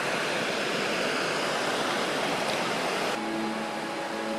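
A fresh mountain river rushes steadily past a free campsite in a rural village in Saiki, Oita, between rice paddies and forest, a loud, continuous broadband flow with a faint tonal hum entering near the end.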